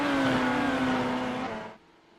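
Number 7 Porsche race car overtaking at Le Mans: a loud, steady high engine whine that holds for about a second and a half, then drops away abruptly into a faint background hum.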